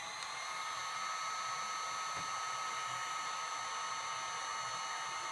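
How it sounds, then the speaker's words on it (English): A heat gun blows steadily while melting embossing powder on a glitter card made from a paper napkin, a continuous airy whir with a high whine, fairly quiet and unbroken throughout, with no talking. "We then heat the image with a heat gun until the powder is melted."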